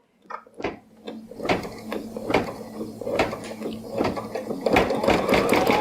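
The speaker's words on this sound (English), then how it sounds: "it's just sewing a straight stitch around there again" A sewing machine stitches a straight line around an appliqué, a close, steady rapid chatter of needle strokes that starts up after a few clicks and keeps running evenly.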